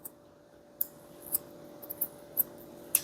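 Scissors snip hair during a men's undercut, a handful of crisp, separate cuts spaced irregularly against a quiet room.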